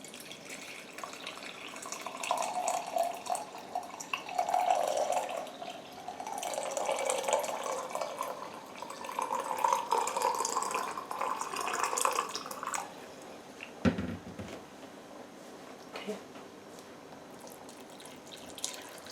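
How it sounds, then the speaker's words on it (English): Water poured from a jug into a pot of Indian aloo matar paneer curry, a soft gurgling stream rising and falling in waves, close and quiet, followed by a small knock of the jug. "I'm going to add more water"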